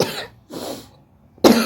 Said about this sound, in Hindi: खांसी भी हो गई है मुझे